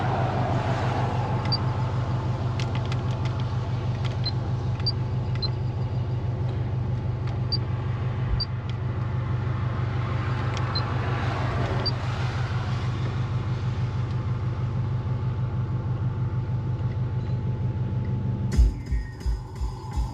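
Steady low engine drone and road rumble inside a moving Honda Civic, continuous and fairly loud throughout, with a few sharp clicks or knocks near the end.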